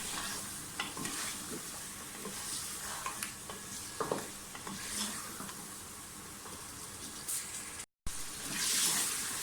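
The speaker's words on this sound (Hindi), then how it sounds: "गोश्त के साथ अच्छी तरह से मसालों को भूनें।" Meat frying with spices in a pot for dal gosht, a close, busy sizzle broken by repeated scraping stirs and clinks, with a brief dropout near the end.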